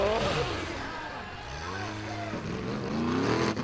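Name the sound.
Formula OffRoad car engine at full throttle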